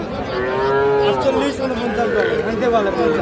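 Young calves moo repeatedly in long, drawn-out calls close by, overlapping one another, with people chattering in the background at a cattle market.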